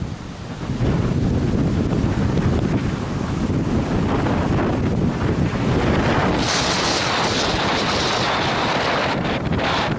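Strong wind at a lake near Katahdin, Maine, roars and buffets the microphone continuously, a heavy rumbling gust with water noise underneath, loud and unbroken throughout.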